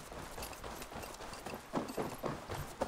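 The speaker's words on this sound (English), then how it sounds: "And summon a horse here, I guess." Horse hooves clip-clop steadily in the Assassin's Creed Valhalla video game during free roam in England, a quiet rhythmic trot of repeated soft thuds under faint background ambience.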